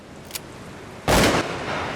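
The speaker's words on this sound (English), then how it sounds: "I heard a gunshot that was pretty close" A single gunshot fired close by in a wilderness survival setting, one sharp loud blast with a short ringing tail, preceded by a faint distant crack.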